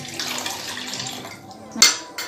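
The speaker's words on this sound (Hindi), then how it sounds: "तो हमें इसमें 2 कप पानी डालने हैं" Water poured into a cooking pot for giloy kadha, a steady close splashing stream that trails off and ends with a sharp metallic clink against the pot.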